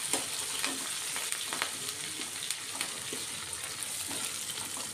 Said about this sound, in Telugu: కొంచెం ఫ్రై అయ్యాక చూడండి, ఆనియన్స్, పచ్చిమిర్చి, కరివేపాకు ఫ్రై అయ్యాయి కదండి.